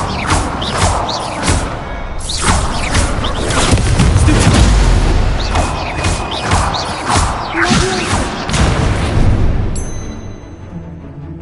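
Incendio fire spells cast over and over in Hogwarts Legacy, loud whooshing bursts and booming crashes layered densely for the whole stretch amid game effects.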